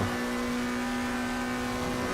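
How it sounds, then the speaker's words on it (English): A McLaren race car engine in Assetto Corsa Competizione bogs down, holding a steady, strained low drone with a fixed hum, continuous and alone for about two seconds. "Engine bogs no matter what"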